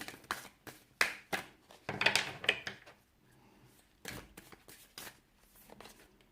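Soft, quiet shuffling of tarot cards, with irregular riffling bursts and light taps close by, pausing briefly between handfuls.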